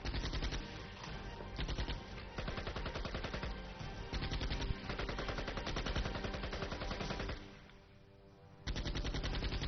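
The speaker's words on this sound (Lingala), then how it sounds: "Minduki eza kobeta en désordre" Dense, continuous bursts of machine-gun fire from a Nigerian film fill the scene, rattling loudly and steadily with a brief lull near the end before resuming; no talking is heard.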